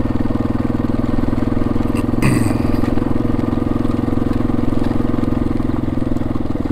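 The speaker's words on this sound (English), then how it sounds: "maybe get some video driving the bike" A Yamaha XT250 dirt bike engine runs at a steady pace, a continuous low mechanical drone that holds evenly throughout, with a brief rustle partway through.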